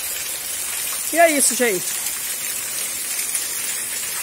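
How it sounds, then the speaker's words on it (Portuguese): Steady rain pours down in Itapura, São Paulo, a dense even hiss throughout, with someone speaking briefly over it near the middle. "tá molhando aqui na chuva"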